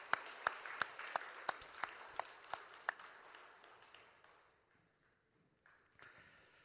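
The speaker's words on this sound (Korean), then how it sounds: "하나님께 우리 영광의 박수 올립시다." A church congregation gives a short burst of applause at a Sunday morning worship service, about a dozen sharp claps in a quick steady rhythm that then thin out and fade into quiet room tone.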